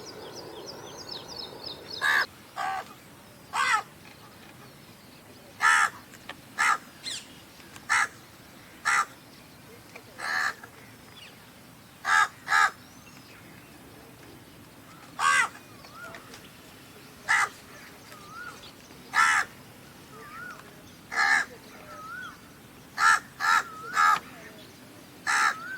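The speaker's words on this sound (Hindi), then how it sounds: "ये है हमारा प्यारा कौवा" A crow caws repeatedly at close range, harsh single and paired calls spaced a few seconds apart over about twenty-five seconds, above a quiet outdoor background after a light rainfall.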